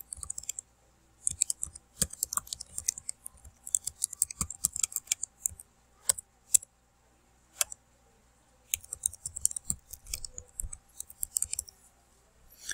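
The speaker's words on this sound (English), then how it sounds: "And we're just going to type that in." Typing on a computer keyboard, close and fairly quiet: irregular runs of crisp key clicks with short pauses between bursts.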